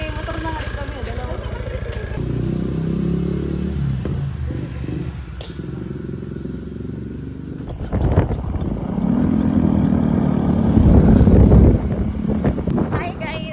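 Motorcycle ride on a provincial road, a continuous engine drone mixed with heavy wind buffeting on the microphone that grows louder toward the end, while people talk over it.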